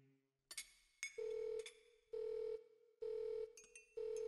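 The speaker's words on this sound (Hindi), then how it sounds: "फोन।" Telephone ringing indoors in repeated electronic bursts, four steady rings with short gaps after an initial click and clatter, fairly close and clear with no talk over it.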